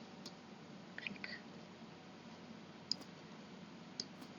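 Mouse clicks while drafting in AutoCAD: a few soft, sparse single clicks spaced over several seconds, faint above a steady low background hum.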